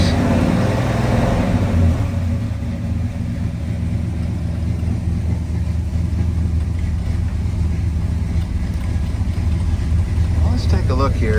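1963 Pontiac Catalina V8 engine running steadily after a cold start, a close, constant rumbling idle filling the whole stretch, with faint background noise but no clear talking.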